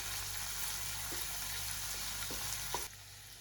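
Ginger garlic paste sizzles in a frying pan as a spatula stirs it, a low steady frying hiss with a few soft scrapes, close and quiet.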